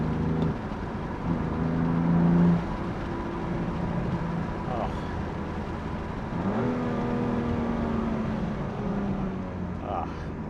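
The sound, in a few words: BMW M2 Competition S55 engine driving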